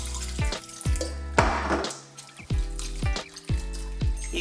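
Anchovies being rinsed in a bowl of water by hand, close sloshing and splashing in repeated short strokes with brief pauses, no voices.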